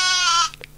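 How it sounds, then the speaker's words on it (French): A sheep bleats once, a short, loud, nasal cry heard up close in a guessing game, followed by a brief bit of background noise. "Le mouton."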